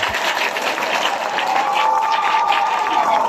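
Mourners at a memorial service in Mathebethu give a steady burst of hand clapping, dense and fairly loud, holding evenly throughout with a faint crowd murmur.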